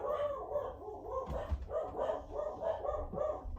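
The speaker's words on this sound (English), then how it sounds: "Hear my dogs barking in the background" Dogs barking indoors in the background, a string of rhythmic muffled barks and yips repeating steadily, with a voice talking over them while an NHL 23 hockey game plays.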